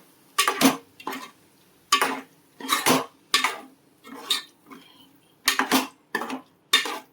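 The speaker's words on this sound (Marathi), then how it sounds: "असं तेल सुटल्यानंतर आपण त्याच्यामध्ये कोळंबी आणि बटाटा ॲड करूया. ते चांगलं मिक्स करूया." Prawns and potatoes are stirred into curry masala in a pan, a spoon scraping and clattering against the metal in repeated short bursts with brief pauses between, close and fairly loud with no talking.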